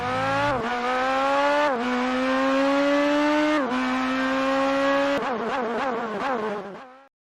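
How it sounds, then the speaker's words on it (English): A loud V8 NASCAR-style race car roars nearby, its engine climbing through the revs with several sharp gear shifts before cutting off abruptly. "Big American Ford, Chevy, Dodge race cars, loud V8s."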